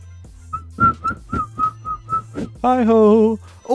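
A person whistles a short tune of about eight evenly spaced notes, then a longer wavering warbled whistle, with a brief spoken interjection at the start and a voice after.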